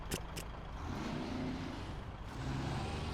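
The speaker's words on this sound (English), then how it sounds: "I love the engine sound, though." Brigadier truck engine in the video game SnowRunner, a steady low rumble with a couple of sharp hissing bursts near the start, sustained and fairly loud throughout.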